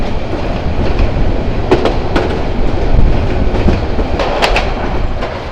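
Steady rail noise from the Haor Express passenger train between Mohanganj and Dhaka in Bangladesh: a dense rolling roar with a few bright clacks over the track joints. The sound stays loud and close throughout, with no voices.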